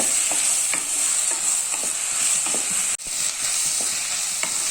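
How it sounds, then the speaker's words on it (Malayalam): Onion, curry leaves and slit green chillies sautéing in a pan, a steady bright sizzle with repeated scraping stirs, briefly dropping out for a moment near the middle. "നമുക്കിതിലേക്ക് കുറച്ച് കറിവേപ്പില ഇട്ട് കൊടുക്കാം രണ്ട് പച്ചമുളക് നെടുക കീറിയതും കൂടി ഇട്ട് കൊടുക്കാം എന്നിട്ട് നന്നായിട്ട് വഴന്ന് വരട്ടെ"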